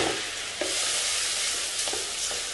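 An onion-tomato paste for mutton kuzhambu fries in a pan with a steady, loud sizzle, while a spoon stirs through it with a few soft scrapes.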